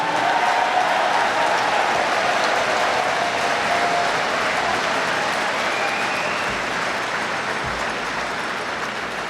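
Sustained broad applause from a large audience at the West Point Thayer Award ceremony, loud and continuous throughout, easing slightly toward the end.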